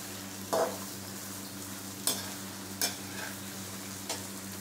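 Onions fry in a pan toward a light pink, giving a low, steady sizzle under a faint hum, broken by four sharp spatula scrapes spaced a second or so apart.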